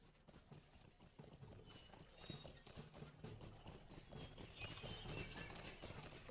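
A mount's clip-clopping hooves keep up a steady galloping rhythm in Lord of the Rings Online, moderately loud and continuous under a busy layer of game ambience.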